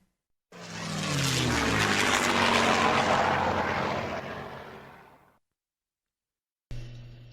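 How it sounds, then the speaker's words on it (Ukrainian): A propeller airplane sound effect swells and fades over several seconds as a toy-lesson sound, loud and rushing, followed by silence and a brief start of another sound. "This is a plane."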